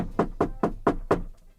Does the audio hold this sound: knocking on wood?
yes